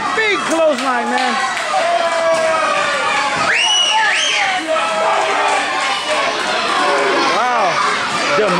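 A wrestling crowd in Lockhart cheers and shouts loudly and continuously during a championship match, with children's voices and scattered clapping rising through the din and a commentator talking over it.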